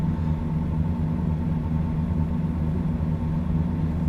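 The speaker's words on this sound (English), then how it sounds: "This truck's kind of loud in my ears." A truck engine in the video game American Truck Simulator drones steadily with a low, even rumble, constant in level and without breaks.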